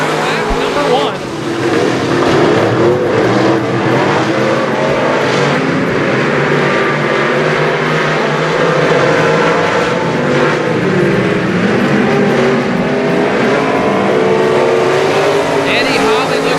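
Limited modified race cars roar around a dirt track at night, loud continuous engine drone with passing surges throughout, under an announcer's voice.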